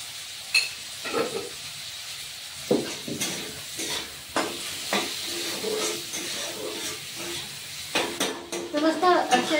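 Chopped tomatoes fry in a pan for paneer curry, with a steady low sizzle and occasional stirring clatter close by.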